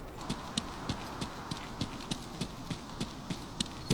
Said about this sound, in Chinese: 调节 EQ 后，敌人的脚步声。